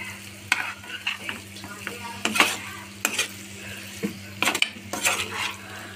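A utensil scrapes and clinks against a pan while egg gravy is stirred, irregular metallic strokes over a low sizzle and steady background hum.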